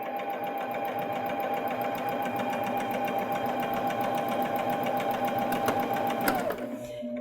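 Baby Lock Jazz II sewing machine running a seam through wool and cotton fabric, a close, steady rapid stitching whir that holds constant before stopping abruptly near the end.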